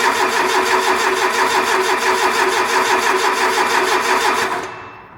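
An old Renault 5 Gordini engine catches and runs at a steady, lumpy idle with a pulsing mechanical rhythm, close and loud, then cuts off abruptly near the end in a cold workshop unit.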